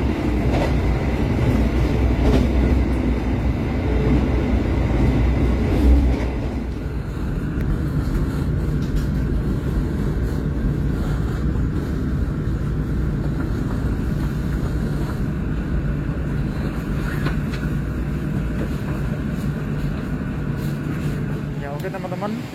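Inside the cabin of the Gajayana passenger train, a loud continuous rumble and rattle carries on throughout, easing slightly after a few seconds, with steady rhythmic clatter from the cars in motion.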